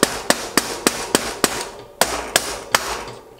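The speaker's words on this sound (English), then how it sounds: "So I've got a rubber mallet, and I'll just put a little rag over it for extra protection." Rubber mallet, wrapped in a rag, tapping a crank arm onto a bike spindle during installation of a Stages power meter on a SRAM Rival 22 crankset: about ten sharp, evenly spaced knocks, close and fairly loud, with no talking.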